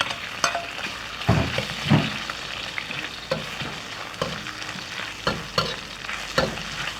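Home-smoked cured pork, leaner pieces, stir-frying in a hot wok: a continuous close sizzle of oil punctuated by repeated scraping clinks of the spatula against the pan, with no voices.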